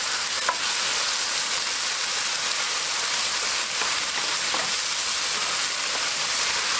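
Tomatoes for Tex-Mex rice sizzle and fry in a hot pan with a constant dense hiss, close and fairly loud, with a few faint clinks and no talking.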